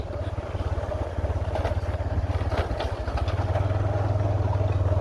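A tractor engine chugs loudly and steadily nearby with a low rhythmic throb, its pitch rising slightly toward the end.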